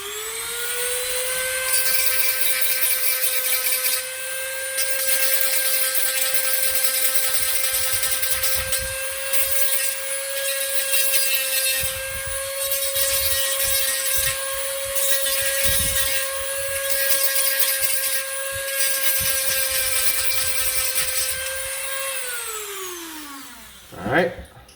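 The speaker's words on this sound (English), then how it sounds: "If I need to, I can always sand it again" Steady high-pitched whine of a power tool sanding a Dart Zone BallistixOps Apex blaster part, running continuously and close for over twenty seconds before spinning down at the end with a brief knock.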